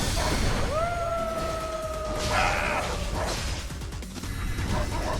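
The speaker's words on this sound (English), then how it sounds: "I don't know why her class has puppies." Puppies yip and bark in the video game Like a Dragon: Infinite Wealth, with a couple of rising then level whining yelps over dense game noise and a brief clattering burst.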